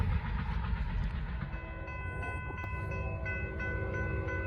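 Norfolk Southern freight train led by a Dash 9 locomotive passing in Gaffney, South Carolina: steady low rumble of rolling cars, with a sustained horn chord sounding partway through, moderately close.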